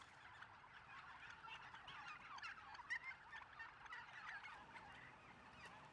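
A flock of farm turkeys gobbles continuously in a dense, overlapping chorus of warbling calls, fairly faint and steady throughout, with a slightly louder cluster near the middle. No one speaks.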